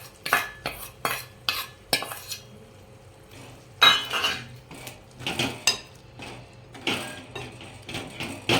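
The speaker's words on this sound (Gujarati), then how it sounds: "હવે આપણે શેકેલું લસણ પણ અંદર નાખી દઈશું" Roasted garlic tipped into ginger in a pan for a ginger-garlic-mango pickle and stirred with a metal spoon, giving a series of sharp clinks and scrapes in uneven bursts, close and alone.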